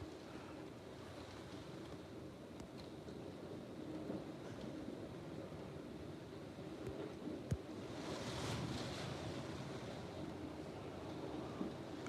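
Hurricane Beryl's wind roars steadily over churning waves at a channel inlet in Clear Lake, Houston, with buffeting gusts on the microphone and a louder surge of wind and spray near the end, no talking.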